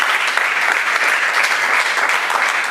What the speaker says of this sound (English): you can also clap, Xavier.